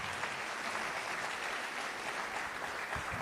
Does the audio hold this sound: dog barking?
no